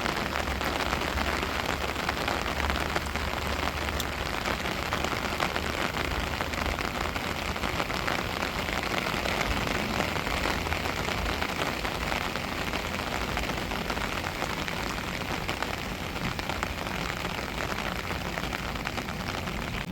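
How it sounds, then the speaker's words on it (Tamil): Heavy rain pours down steadily outdoors under a fully clouded sky around a rural home, a dense, loud, unbroken hiss lasting throughout with no talk. "சரியான மழை, மேகம் ஃபுல்லாக மேகமாக தான் இருக்குது."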